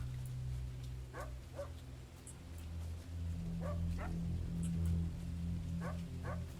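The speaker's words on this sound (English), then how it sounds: "if you don't hit the box the right way, he barks" A dog in an indie video game yips and barks in short bursts, several separate barks over a low droning background hum, fairly faint.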